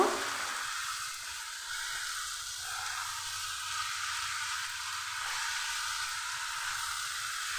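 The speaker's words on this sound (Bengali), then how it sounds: "পেঁয়াজের সঙ্গে মশলাটা একটু ভালো করে কষিয়ে নিচ্ছি" Onion and spice paste with ginger and garlic fries in a pan, giving a steady, even sizzling hiss at close range that holds throughout with no talking.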